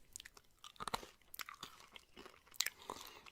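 Gum chewing up close in soft ASMR style, a quiet series of irregular wet smacks and crunchy clicks, intimate and faint with no talking.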